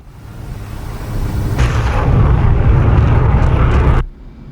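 In the DCS F/A-18C Hornet flight sim, a steady jet roar swells into a long, heavy rumbling blast of a bomb explosion that cuts off abruptly, leaving quieter engine noise.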